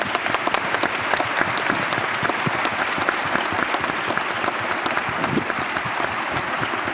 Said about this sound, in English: Another round of applause for them, please.